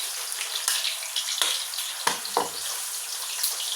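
Food frying in a hot pan on a home stove, a loud hissing sizzle with sharp crackles and pops, continuous and close, with no voices.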